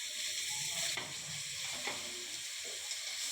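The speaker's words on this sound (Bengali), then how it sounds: "যে মাছগুলো প্রায় ভাজা হয়ে এসছে" Bhola fish fry in a pan, giving a steady, faint sizzle with a few soft scrapes of stirring and no speech.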